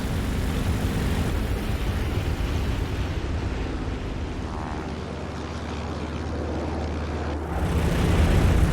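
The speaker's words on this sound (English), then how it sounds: "This can be achieved by using the afterburner. Accelerate the plane." Jet engine on a plane accelerating with afterburner in the Xbox 360 game Birds of Steel, a dense, loud roaring rush that dips briefly midway and then surges stronger near the end.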